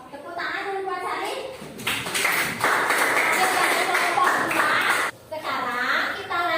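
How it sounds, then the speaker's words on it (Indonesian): Students in a classroom during a Pythagoras math lesson break into a burst of clapping that lasts a few seconds, with children's voices and other chatter before and after it. "Jika tidak, tepuk tangan dulu buat Sari."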